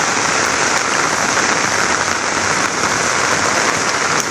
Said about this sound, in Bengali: এত বৃষ্টি, চারিদিকে বৃষ্টি আর বৃষ্টি।